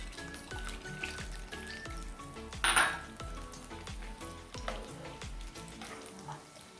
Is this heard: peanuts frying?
yes